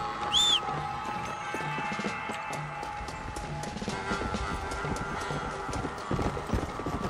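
Horse in the video game Red Dead Redemption Undead Nightmare galloping, a fast rhythmic clip-clop of hooves continuing throughout with a short whinny at the start and a game score humming beneath.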